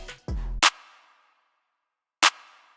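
A bright, punchy trap-beat clap with a long reverb tail, layered with a snare-like body; two hits, the second after a short silence.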